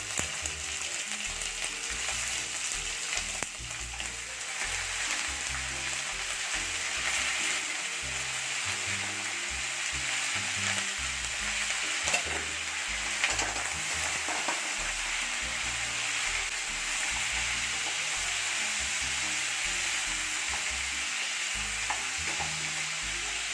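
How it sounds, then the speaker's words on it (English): Mutton pieces sear in hot oil with black cardamom and spices for Kashmiri rogan josh, a continuous close sizzle and crackle with occasional stirring scrapes, steady and even throughout. "Now it's time to add the mutton pieces one by one."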